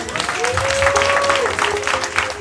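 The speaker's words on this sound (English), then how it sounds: "So clap it up for yourselves." An audience applauds at a live premiere Q&A with the cast, a dense burst of clapping over a crowd, with a faint tone or whoop running through it.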